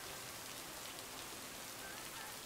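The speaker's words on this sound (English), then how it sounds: "Can't harvest taters with all this rain." Rain falls in a farming video game as a steady, dense hiss that fills the whole stretch evenly, with no voices.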